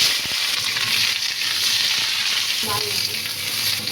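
Cauliflower, eggplant, potato and spinach fry in hot oil for a rosha curry, giving a steady, dense sizzle and hiss close by, with a few faint stirring clicks and no talking.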